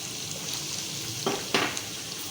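Yogurt lands in a pan of sizzling maash dal: a steady frying hiss swells with two short bursts of louder crackle as it is poured and stirred.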